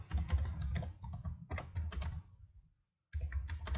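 Rapid typing on a computer keyboard, close and clear, as a dense patter of key clicks that breaks off into a short silence before resuming.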